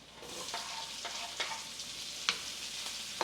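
Onions for Filipino pork humba sauté in a pan after the garlic, giving a low, steady sizzle broken by occasional spatula scrapes and taps, quiet and close with no talking.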